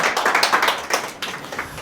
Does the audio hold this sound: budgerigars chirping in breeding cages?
no